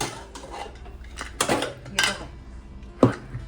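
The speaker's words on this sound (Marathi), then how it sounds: "चला आता कुकर गार झालेला आहे, मी तुम्हाला खोलून दाखवते त्याला भाताचं" Metal clanks and rattles of a pressure cooker lid being handled and opened on a pot of masala rice, several close knocks ending in a sharp clang.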